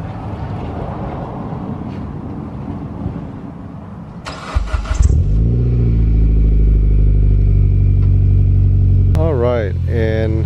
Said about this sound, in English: Gonna give it a nice cold start for you guys.